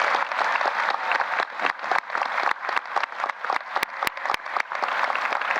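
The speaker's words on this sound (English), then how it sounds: "Let's give them a round of applause." A standing audience at a university investiture ceremony applauds the faculty, with steady massed clapping and a few sharp, close individual claps standing out near the end.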